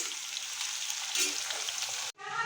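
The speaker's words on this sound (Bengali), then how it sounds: "এগুলো এখন ভাজা চলছে এগুলো এখন ভাজছি" Loud, continuous sizzling of vegetables frying in a hot pan for rice, with occasional stirring and a short break near the end.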